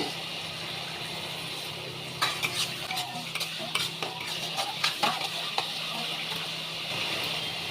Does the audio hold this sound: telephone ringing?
no